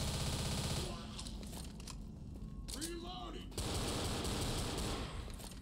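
Minigun fire in the zombie shooter Left 4 Dead, a dense continuous rattle of rapid gunfire running throughout, with a brief dip in the middle, under game noise and bits of voice.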